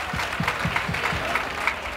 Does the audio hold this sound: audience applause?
yes